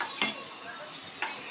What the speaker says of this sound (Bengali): এরপরে আলু ভাজাগুলো তুলে নিয়ে দেখো।